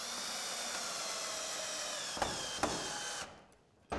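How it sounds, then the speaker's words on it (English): A power screwdriver runs at a steady whine while driving a screw into a dry vented roof ridge, with two sharp clicks near the end before the motor cuts off and a brief knock follows. "I won't screw that one down until I've got the screw in position on this"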